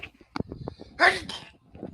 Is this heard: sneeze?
yes